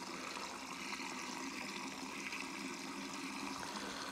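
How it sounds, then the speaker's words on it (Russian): A high-pressure garden hose pours water into a deep mole burrow and makes a steady, continuous gushing and trickling sound. It is close and moderately quiet, with no voices. "Бежит, бежит и бежит вода."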